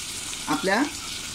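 Malvani masala tipped into a hot frying pan gives a soft, steady sizzling hiss, with a brief voice-like sound in the middle.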